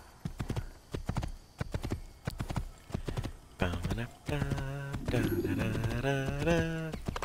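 Horse hooves clip-clop in a steady trotting rhythm in the Assassin's Creed video game, followed by a loud horse whinny, with game ambience underneath.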